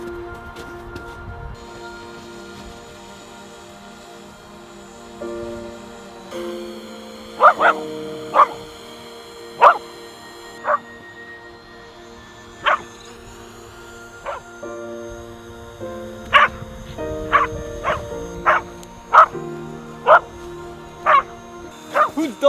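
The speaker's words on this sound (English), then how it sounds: "Dog running into the shot." A dog gives a string of short, sharp yips at irregular intervals, moderately near, over a steady tonal background of sustained music-like notes.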